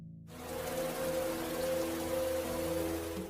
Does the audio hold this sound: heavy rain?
yes